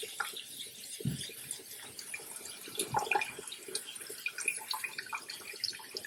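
Tap water runs and splashes while two cups of rice are rinsed in a kitchen, a faint steady trickle with occasional louder splashes and drips.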